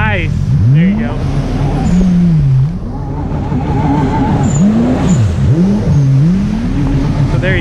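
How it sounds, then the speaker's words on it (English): A jet ski engine revs and drops repeatedly, with a sharp blow-off valve hiss burst as the throttle lets off, loud and close amid wind noise. "Let's hear that blow-off valve."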